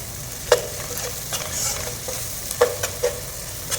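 Onions frying in sunflower oil for a camel biryani, a steady soft sizzle with occasional sharp clinks and scrapes of a stirring spoon against the pan, close and fairly quiet.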